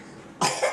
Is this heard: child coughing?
yes